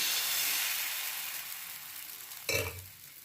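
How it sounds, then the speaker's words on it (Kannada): Dosa batter spread across a hot oiled pan gives a steady broadband sizzle that fades slowly, then a sharper, louder burst of hissing near the end, with no voices. "ಸ್ವಲ್ಪ ಎಣ್ಣೆ ಹಚ್ಚಿ ಈ ಥರ ದೋಸೆ ಹರಡಿಕೊಂಡು ಸ್ವಲ್ಪ ಮಟ್ಟಿಗೆ ಇದನ್ನು ಸ್ಪ್ರೆಡ್ ಮಾಡಿದರೆ ಸಾಕು"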